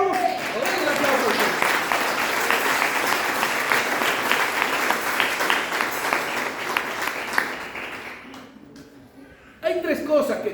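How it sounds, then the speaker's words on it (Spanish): A church congregation applauds during a Spanish-language sermon, dense sustained clapping swelling then fading over several seconds, with a preacher's voice heard at the start and resuming at the end. "Denle un aplauso."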